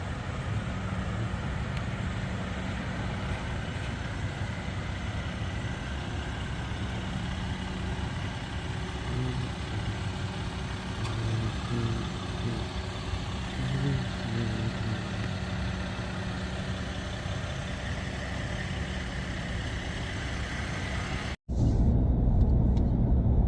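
A 2022 Ram EcoDiesel pickup's diesel engine idles with a steady low rumble, constant and moderately close, broken by a sharp click near the end followed by a slightly louder, shifted hum.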